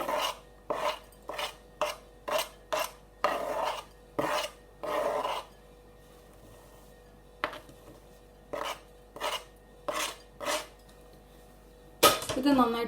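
Chopped onion, green chilli, coriander and curry leaves mixed in a bowl, a series of rhythmic scraping strokes with a spoon, some brief and some longer, then a pause and a final clatter.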